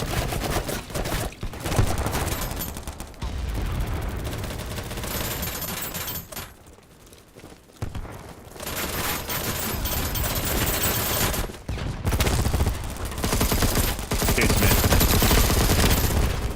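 Sustained heavy gunfire in the shooter BattleBit rattles on loudly in long automatic bursts, briefly easing to a quieter lull midway before the dense volleys resume at full force.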